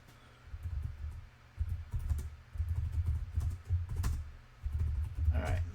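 Bursts of rapid typing on a computer keyboard, close and clear, with short pauses between runs of key clicks and no talk.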